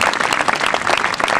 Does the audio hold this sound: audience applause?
yes